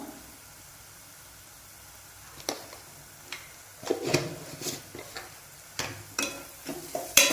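Garam masala and spices sauté in a pan, a soft sizzle under scattered scrapes and taps of a spoon against the metal that grow busier after a quiet start.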